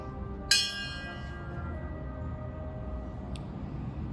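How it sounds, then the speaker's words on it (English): A single memorial bell at a 9/11 remembrance ceremony rings out with one clear, bright strike whose tone slowly decays, followed by a much fainter second tap near the end over a quiet room hum. "We toll the bell in remembrance of the first responders who lost their lives that day."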